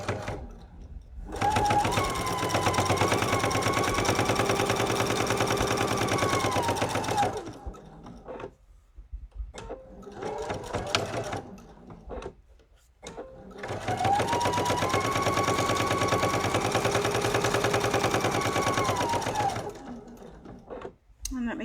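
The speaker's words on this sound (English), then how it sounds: "I'm going to sew that opening closed" A sewing machine stitches a pocket opening closed, running in two long, steady bursts of rapid mechanical chatter with a short pause between them. It is close and loud, and quieter handling or voices fill the gaps.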